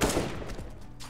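Counter-Strike gunfire, an AK rifle shooting through a wooden wall, comes as a rapid fusillade of close, loud shots. The sharp bursts run across the whole moment with a brief lull near the middle, and no one speaks.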